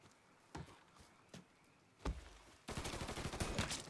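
Gunfire in Mafia III: a few sharp isolated shots at first, then a dense, sustained burst of rapid automatic fire, close and loud, with no voices heard.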